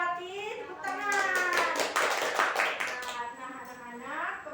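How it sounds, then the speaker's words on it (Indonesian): Sixth-grade schoolchildren clap together in a classroom, a burst of quick, fairly even hand claps for a few seconds while young voices talk and call out over it, close and bright. "Tepuk tangan"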